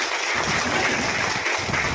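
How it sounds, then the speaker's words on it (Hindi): Dense applause from a crowd at a village panchayat development seminar in Kotal, Premnagar, a steady wash of clapping filling the whole moment with no voices on top. "इनके लिए भी जोरदार ताली होनी चाहिए।"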